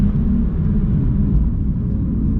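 A car on a race track at a track day, running on NS2R tires, gives a steady, loud low engine and road rumble from inside the cabin, continuous with no distinct gear changes.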